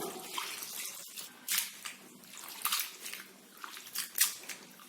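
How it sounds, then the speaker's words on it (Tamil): Sliced potatoes are rinsed by hand in water in a wide vessel, giving soft irregular sloshing and splashing surges close by and fairly faint, with no voices. "ஒரு அகலமான பாத்திரத்துக்கு மாத்திட்டு நல்லா அலசிடுங்க, அப்பதான் அந்த மாவு தன்மையெல்லாம் நல்லா வரும்."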